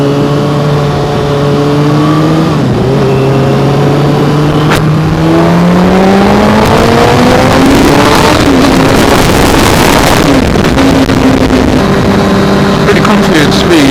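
A Kawasaki ZX6R 636 sport motorcycle engine at speed, loud and close, its whine climbing through the revs with brief dips at gear shifts, over heavy rushing wind noise.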